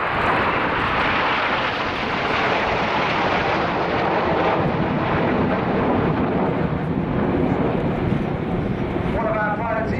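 A Eurofighter Typhoon jet sweeps past at an air show, a loud continuous roaring rush of engine noise that fills the whole stretch and swells slightly toward the end, with a commentator's voice partly under it.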